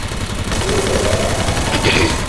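Gunfire in the Free Fire Max mobile shooter game, a dense continuous rattle of shots that runs nonstop at moderate loudness with no pauses.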